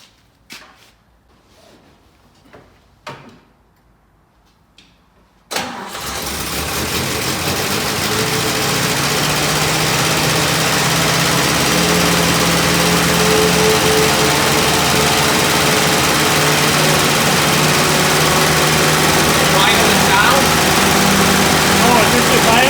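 A 1962 Jeep M170 engine with a rod knock cranks and catches after a few quiet handling knocks, then runs continuously and loudly close by, a steady rough idle holding for the rest of the stretch.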